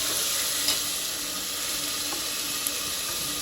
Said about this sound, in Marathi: थोडंसं लालसर झाल्यानंतर हे आपण जी पेस्ट बनवली होती ती ऍड करूया.